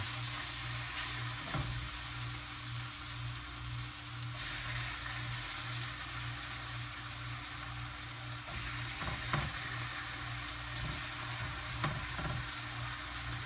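Thick-cut applewood smoked bacon sizzles in a pan, a continuous soft hiss and crackle with a low steady hum beneath and a few brief clatters, no voices over it.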